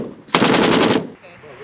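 A machine gun fires one loud, close burst of rapid shots on a military firing range, lasting under a second, with quieter sound before and after.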